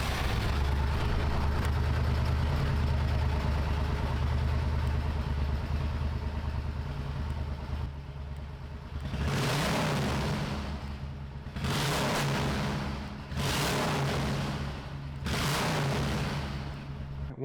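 A Suzuki Intruder 1400 motorcycle engine idles and revs up close, with a few sharp crackling exhaust pops as it rises in pitch.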